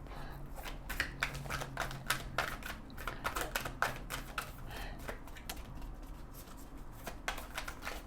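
Tarot cards are shuffled by hand in a series of quick, close riffling and snapping bursts that repeat irregularly throughout, with faint background voice.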